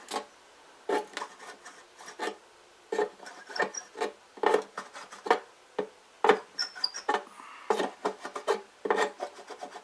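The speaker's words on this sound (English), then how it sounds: "And there's not much to scrape off on this front side here." A sharp blade scraping around the edges of a hole cut in a plastic enclosure, giving a series of short, rough rasping strokes in uneven bursts, close up and alone.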